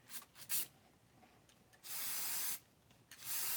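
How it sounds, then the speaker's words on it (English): A spray can hisses in bursts over a glitter-coated wine tumbler, with short puffs at first and then two longer steady sprays separated by a pause. "And now I'm just spraying"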